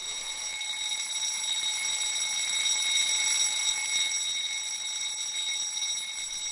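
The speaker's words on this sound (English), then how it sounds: "A little bit later, an alarm is heard." Fire alarm ringing inside a hospital, a steady high electronic tone with strong harmonics that holds at an even, moderately loud level from start to finish, with no voices.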